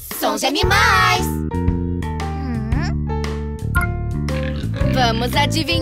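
Children's farm-animal song where a voice imitates a pig's oinks in short sung bursts over a cheerful, bouncy instrumental backing.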